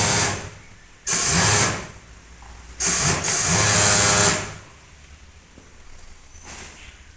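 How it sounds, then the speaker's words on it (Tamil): An industrial sewing machine in a Tirupur garment company runs in two loud bursts of rapid, hissing stitching, each lasting about a second or more, separated by quieter room hum and a faint later burst. "மிஷின் ஆன் பண்ணிட்டோம். தைக்க போகிறோம்."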